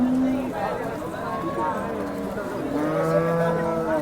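Cows at a busy cattle market in Sangola, Maharashtra, low repeatedly in long, drawn-out moos, some close and some farther off, over a steady crowd murmur.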